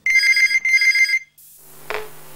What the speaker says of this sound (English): I'm scared to answer the phone.